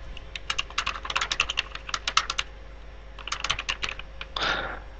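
Rapid bursts of computer keyboard key presses, close and crisp, come in two clustered runs with a short pause between, followed by a softer brushing sound, with no talking.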